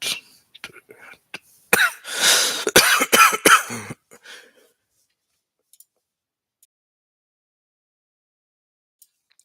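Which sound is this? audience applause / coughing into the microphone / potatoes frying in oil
coughing into the microphone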